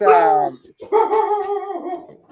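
A dog barks indoors during a sit-down interview, giving two loud, drawn-out, whining barks close by with a short gap between them.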